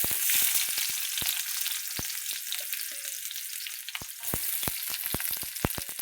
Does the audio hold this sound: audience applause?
no